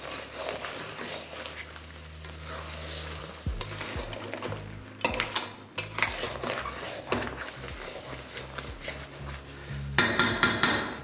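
Crab curry (kankra kosha) stirred in a hot pan: a steady sizzle under repeated scraping and clanking of a spatula against metal, with louder bursts of stirring toward the end.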